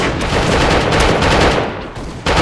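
Rapid sustained automatic fire from an Uzi submachine gun in the online shooter A.V.A., a loud close burst lasting a couple of seconds with a brief break near the end.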